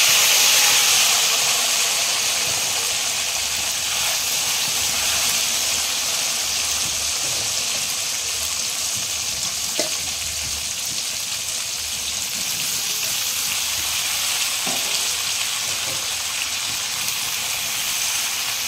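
Jujube (boroi) fruit fry in a pan for pickle, giving a steady broad hiss of sizzling that is loudest at the start and then holds even, with only a couple of faint knocks.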